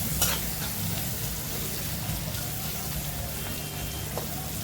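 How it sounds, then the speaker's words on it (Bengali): Chopped onion fries in oil with salt and turmeric, giving a dense, even sizzle and crackle heard up close, with an occasional light utensil tap. "তেলের উপরে লবণ আর হলুদ পরিমাণ মতন দিয়ে একটা পেঁয়াজ কুচি করে কেটে ছেড়ে দিয়েছি। এটাকে হাফ ফ্রাই করে নেব।"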